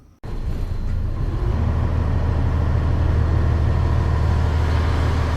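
Bus engine starting up and pulling away, a sudden loud onset after near silence that settles into a steady low rumbling drone close by.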